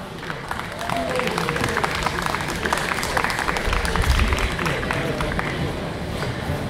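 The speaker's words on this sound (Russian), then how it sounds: "Похлопаем еще раз." Concert audience at the Karakuz 2021 festival in Almetyevsk applauding a performer, giving a sustained, dense wash of clapping from a large crowd that swells slightly midway, with some voices mixed in.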